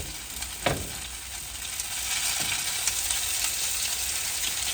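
Potato pancakes fry in oil on a hot grill, giving a steady, close hiss of sizzling that holds throughout, with a couple of sharp pops and crackles near the start.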